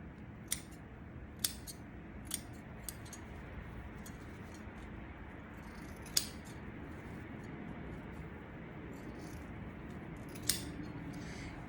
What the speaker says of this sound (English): I can actually cut down the tongue significantly here.